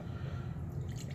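Sexton Irish whiskey is poured from its awkwardly shaped bottle into a glass, a soft, short trickle and gurgle of liquid heard alone at low volume.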